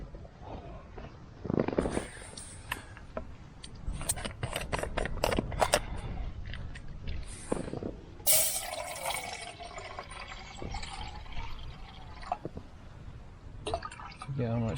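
Hot water poured into a mug at a wild camp in an abandoned quarry in gale-force wind and freezing temperatures: a splashy, trickling fill mixed with rustling and clatter, with people talking throughout.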